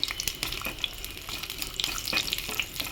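Garlic cloves sizzle and crackle in oil close by, a steady frying hiss broken by small sharp pops and spatters.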